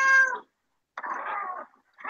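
A cat meows twice, a strong short cry followed after a pause by a longer, wavering one, close and clear with no talking, and a third meow just begins at the end.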